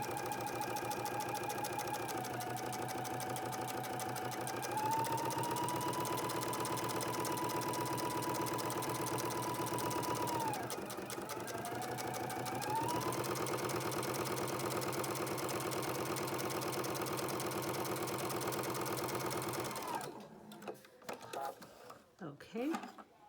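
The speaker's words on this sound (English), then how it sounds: "she's going to sew the plastic side up a 1/4 inch from the sides" A sewing machine stitches plastic on a project bag with a fast, steady mechanical whir that runs for about twenty seconds, slows briefly once, then stops, leaving quiet handling noises.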